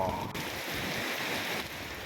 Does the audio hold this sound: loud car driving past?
no